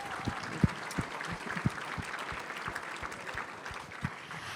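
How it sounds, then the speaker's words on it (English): Scattered clapping from a crowd, steady and fairly loud, with a few sharper individual claps standing out, no talking over it. "Will you please join me in giving her another round of applause?"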